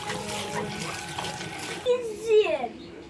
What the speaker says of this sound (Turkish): Şunları da güzel bol suyla yıkayayım.